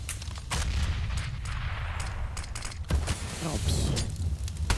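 Bursts of SMG and Galil gunfire in a Counter-Strike match on the Cobblestone map at a DreamHack Masters tournament, crackling almost continuously under a caster talking over the action.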